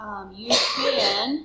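A single sharp sneeze bursts out mid-lesson during a classroom maths talk, loud and close, with a teacher's speech before and after it.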